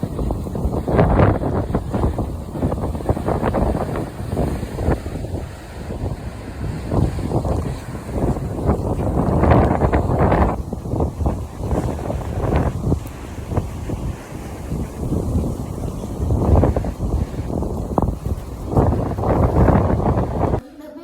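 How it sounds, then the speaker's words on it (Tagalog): Strong typhoon wind in La Union buffets the microphone with loud, continuous roaring gusts, likely near the sea, with only faint voices beneath. "lakas ng hangin"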